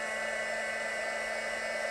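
An old heat embossing tool blows hot air in a continuous, steady whirring rush with a constant high whine, close and unbroken, with no voices.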